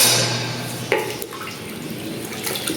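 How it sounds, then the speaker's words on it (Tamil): Water poured into a pot of mutton masala for biryani rice, a splashing, trickling pour near the mic that starts loud, eases into a steady stream and ends with a few drips, with no talk. "6 டம்ளர் தண்ணி சேர்த்துக்கலாம்."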